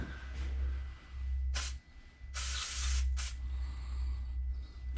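Short hissing bursts of cleaner from a spray can sound out several times on a Stihl MS 880 chainsaw, one longer blast in the middle, over a low rumbling background.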